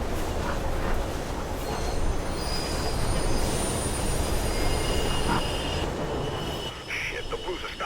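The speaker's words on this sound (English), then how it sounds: "There's a train coming behind you." Train rushing through a tunnel in the video game Mirror's Edge, a loud continuous rumble with high metallic wheel squeal sustained throughout, easing near the end.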